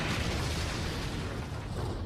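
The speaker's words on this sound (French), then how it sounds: "Le souffle de l'explosion a éteint le feu." A broad, rumbling explosion blast from a One Piece anime battle scene at Marineford, filling the whole span as a loud, dense roar with no distinct start, and no one speaking.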